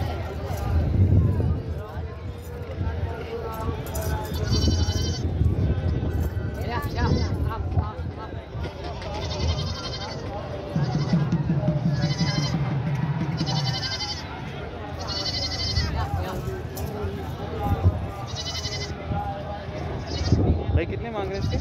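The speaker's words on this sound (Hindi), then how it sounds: "दोस्तों टापरी नस्ल का बच्चा है, आप यहाँ पर ये देख सकते हैं बकरा है।" A Tapri breed goat kid bleats repeatedly at a crowded goat market, several wavering cries spread across the scene, amid loud ongoing chatter and talking voices.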